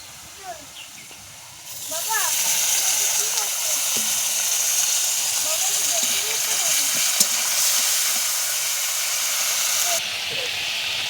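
Spice paste hits hot oil with fried onions in a pan: after a couple of quiet seconds a loud, steady hiss and sizzle surges in and holds for about eight seconds, then eases off.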